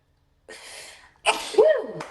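A single close, loud sneeze, a sharp burst preceded by a brief inhale, with nothing else around it.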